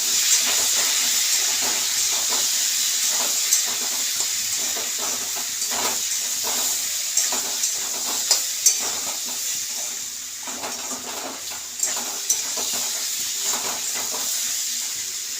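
Turmeric frying in a pan in a home kitchen, a steady hiss and sizzle throughout with occasional light clinks of a utensil against the pan, no talking.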